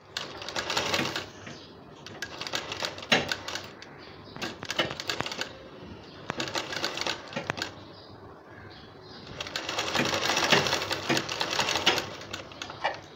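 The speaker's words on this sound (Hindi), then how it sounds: "इसी तरह पूरी सिलाई यहाँ तक हम कंप्लीट करेंगे।" A sewing machine stitches a dori cord neck design, running in several quick bursts of rapid mechanical stitching separated by short pauses, close and fairly loud.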